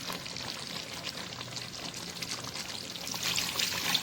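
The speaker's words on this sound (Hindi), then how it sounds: "अब मैंने इसमें डालना है पानी।" Water poured into a pot of bong paye curry after the trotters have been fried and softened, a steady close splash and trickle that swells toward the end, with faint sizzling under it.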